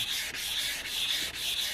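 A yellowed, sun-damaged car headlight lens being wet-sanded with 600 grit sandpaper: a continuous, close, raspy scrubbing in steady back-and-forth strokes with brief dips between passes, no voices.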